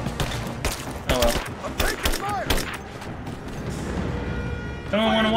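Bursts of gunfire in the action game Rise of the Tomb Raider, several sharp loud shots in quick succession, mixed with game effects and a brief character voice toward the end.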